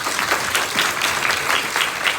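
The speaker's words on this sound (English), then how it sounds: "Give her a round of applause." Audience applause at a live conversation event, a dense, even wash of clapping from a crowd, steady and sustained for a couple of seconds.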